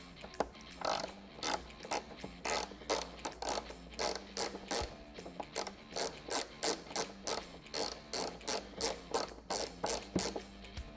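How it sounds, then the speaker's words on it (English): A ratchet loosening a T30 bolt on the cowl of a 2021-or-later Ford Bronco beside the antenna mount, heard up close as quick runs of crisp clicking repeated in a steady back-and-forth rhythm. "tackle the T30 bolt that's right next to it"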